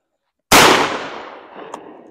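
A single loud 24 gauge shotgun blast fired at a thrown clay target, its sharp crack followed by a long decaying echo with a faint distant pop near the end.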